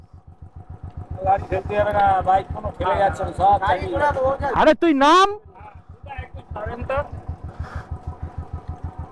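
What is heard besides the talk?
Royal Enfield Bullet motorcycle engine idling, off-road tyres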